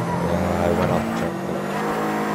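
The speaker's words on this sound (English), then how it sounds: "That drift was too tight." Race car drifting in a racing video game, a steady loud engine drone with tire squeal as the car slides through a tight turn, while a player talks over it.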